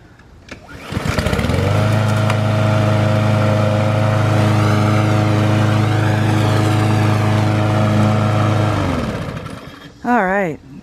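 A new Craftsman M230 self-propelled gas walk-behind lawn mower starts on a single pull and settles into a loud, steady engine drone close by, running evenly for about eight seconds before cutting off, followed by a brief voice.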